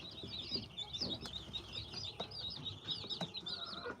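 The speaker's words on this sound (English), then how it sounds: "I think these chicks are 3 or 4 days old." Young Barred Rock and Buff Orpington chicks, a few days old, keep up a busy chorus of high, rapid cheeping and peeping close by, with faint soft shuffling beneath.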